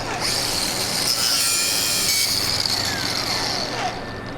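A line on a 12-valve Cummins engine is cut with a continuous, close, gritty rasping and scraping that holds steady for about four seconds with no talk over it.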